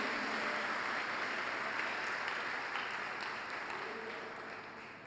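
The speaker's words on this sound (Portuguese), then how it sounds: "Dê um aplauso para Jesus, não para mim, irmão." A church congregation gives a steady wash of applause for Jesus during a sermon. The sound holds even and fairly loud, then slowly fades toward the end.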